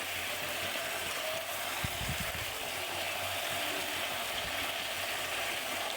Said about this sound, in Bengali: এই যে মুরগির মাংসগুলো দিয়ে দিলাম রোগগুলো রোস্টের এই পিসগুলোকে দিয়ে দিলাম আর এখন সুন্দর করে নাড়াচাড়া করে আর একটু কষায় নেব মাংসটার সঙ্গে